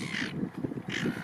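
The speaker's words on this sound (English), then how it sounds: "These seagulls, they have a problem with us." Seagulls near the water give two harsh, raspy calls close by, separated by a brief gap, with nothing else heard.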